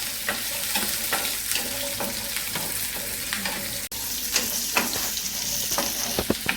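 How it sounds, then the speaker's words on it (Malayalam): Shallots sizzle steadily in hot oil in a pan while a utensil scrapes and stirs with sharp intermittent clicks, close up and without voices. "ഇതേ കൊച്ചുള്ളി ഇതിലേക്ക് ഇട്ട് കൊടുക്കാം എന്നിട്ട് അതൊന്ന് നന്നായിട്ട് വഴറ്റി കൊടുക്കാം"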